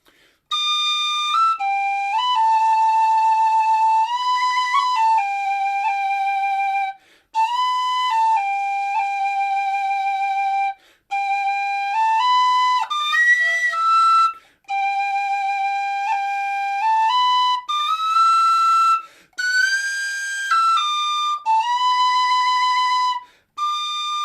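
A tin whistle plays a slow tune alone, its long held notes wavering with finger vibrato, separated by short pauses.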